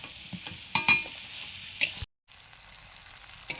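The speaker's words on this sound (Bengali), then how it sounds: "মশলার সঙ্গে আলু কষে নিয়েছি।" Potatoes for alur dom are stir-fried with spices in a pan, a steady close sizzle broken by sharp scraping strokes of the spatula. The sizzle cuts out briefly, then resumes more quietly.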